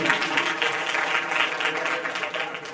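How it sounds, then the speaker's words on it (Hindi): Strong, dense applause from an audience at a Dhakad community student awards ceremony in Jhalawar-Patan, steady and loud throughout. "जोरदार तालियां जगदीश जी के लिए"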